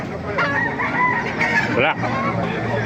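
Rooster sounds from a Black Diamond cock at a bird spot in Baliuag, with clucking and a crow-like call running continuously through busy farmyard fowl noise, close and fairly loud.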